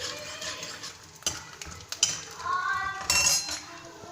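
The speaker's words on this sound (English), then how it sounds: "Now next, fry the groundnuts." Groundnuts fry in a pan for lemon rice, stirred with a spoon that scrapes and clinks against the metal at intervals over a low sizzle. No one speaks.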